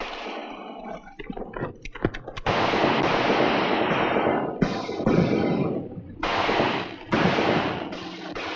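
A shootout in an Old West ambush erupts in loud, rapid gunshots that merge into sustained roaring bursts, broken by a few brief pauses.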